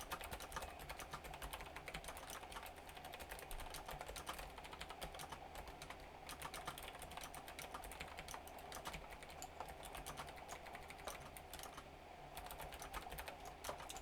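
A camera rests against a computer keyboard and keeps bumping it. Rapid, faint clicks and knocks from the keys run steadily throughout, with no talking.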